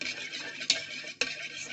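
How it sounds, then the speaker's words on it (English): A mixture of glycerin and water for a base cream is stirred gently in a container, giving a soft continuous swish with two light clinks against the side. "I'll stir as I do that. I'll gently add and stir."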